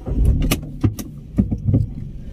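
A car creeps forward on a deserted road, its low engine rumble steady and close, broken by a few sharp clicks and rattles like jangling keys.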